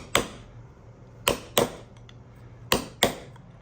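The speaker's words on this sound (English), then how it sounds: "So what I do, just work my way around with a punch and a hammer." Hammer striking a steel punch to drive out the bearing, race and seal unit from an ASV tracked loader bogie wheel: five sharp metallic blows in an uneven rhythm, close and loud against a quiet shop background.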